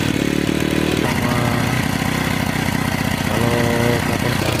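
A Yinxiang motorcycle engine fitted with a turbo runs loud and close, holding a rough, steady mid-pitched idle that lifts briefly in a couple of short revs.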